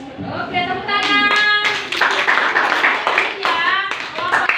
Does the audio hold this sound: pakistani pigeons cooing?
no